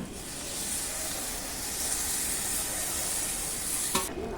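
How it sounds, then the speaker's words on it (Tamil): Tamarind water hits sautéed spices and okra in a clay pot over a wood fire, giving a loud, continuous hissing sizzle that cuts off abruptly at the end. "நம்ம தேவையான அளவு புளி ஊற்றிக்கலாமா?"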